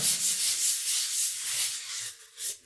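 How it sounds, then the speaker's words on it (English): Sandpaper rubbing over a drywall joint-compound patch around a repaired towel bar, a close, steady scratchy hiss with slight rhythmic strokes that fades near the end, then one short final pass, with no talking. "just go around the edges like so. And kind of just sand them into nothingness is what the goal is"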